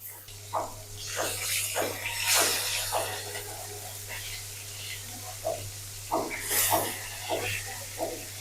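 Fish pieces fry in a pan for a Bengali fish curry, giving a steady soft sizzle and hiss with a low hum beneath. Someone talks over it throughout.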